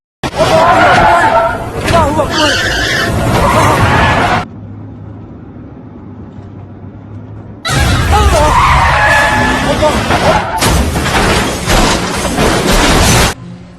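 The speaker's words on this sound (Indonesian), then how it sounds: "kecelakaan yang menyebabkan mobil Imam Ali masuk ke dalam sungai" In a Malaysian horror film scene, a car skids and crashes into a river, with loud tire screeching, rushing noise and screams in two long bursts separated by a quieter pause.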